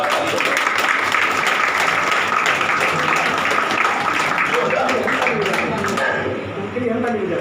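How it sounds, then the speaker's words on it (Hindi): Staff in a school training hall clapping loudly for their students, dense sustained applause close by that thins and fades near the end, with some voices mixed in. "हम स्टाफ वाले ताली बजाए, सभी अपने स्टूडेंट्स के लिए जोरदार।"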